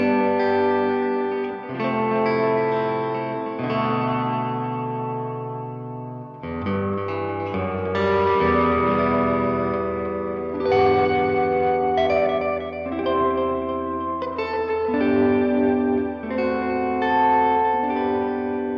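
A guitar runs through a Boss RE-202 Space Echo tape echo with the reverb turned up. Sustained chords and notes smear into a lush, swirling wash of repeats and ambience that plays continuously with no talking.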